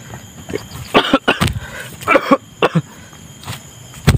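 Several separate coughs, some in quick pairs, spaced across a few seconds with quiet gaps between them, close to the listener.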